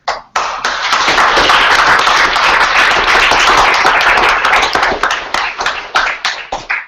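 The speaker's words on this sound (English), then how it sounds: "I think it's time to give an applause to them." A seminar audience breaks into loud, close applause that starts abruptly, holds steady, then breaks up into scattered individual claps before ending.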